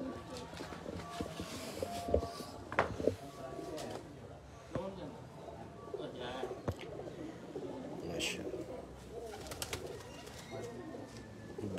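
Pigeons, breeder taddy birds kept by a fancier, coo softly and intermittently in a busy outdoor setting, their low calls mixed with background murmur and occasional louder knocks and movement.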